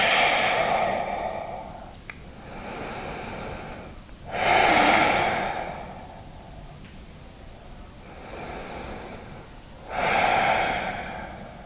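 Slow, deep yoga breaths while pulling both legs in toward the chest: three long audible inhale-exhale cycles, close and breathy, evenly spaced with quieter pauses between.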